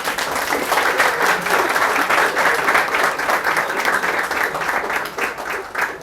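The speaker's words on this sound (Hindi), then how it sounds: "सबसे पहले तो आप खुद के लिए तालियां बजाइए।" Audience applause at a prize distribution ceremony, dense, steady clapping from a large crowd sustained at a loud level throughout, with no talk over it.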